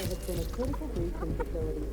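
Chickens clucking in the video game Atomic Heart, a short run of close, repeated clucks over a steady low in-game background hum, with someone talking at the same time.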